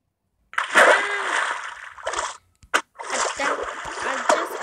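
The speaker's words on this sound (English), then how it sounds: "accidentally fall into the water." A Minecraft Pocket Edition character falls into water with a loud rushing splash, followed by shorter bursts of sloshing and a sharp splash, each near and clear.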